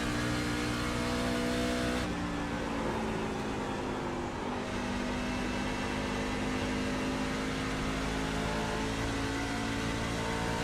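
Loud, steady roar of NASCAR Truck Series engines racing at Rockingham in iRacing, a sustained drone of several trucks at speed with a shift in pitch partway through and no talk.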